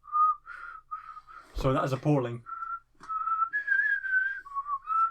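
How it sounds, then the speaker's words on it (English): A person whistles a series of clear, sustained notes, interrupted partway by someone talking. "You're good at whistling."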